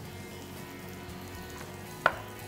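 A clove of garlic in a frying pan where bacon has been cooking over lowered heat, a faint steady sizzle broken by one sharp clack near the end.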